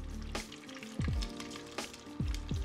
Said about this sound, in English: I'm gonna add in my egg rolls.